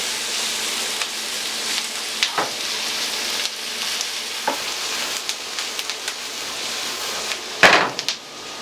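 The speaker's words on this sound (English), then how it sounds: "We'll let these onions and peppers cook a little bit," Onions and peppers sizzling in a pan, a steady close frying hiss with a few soft knocks and stirring scrapes, ending on a louder clatter.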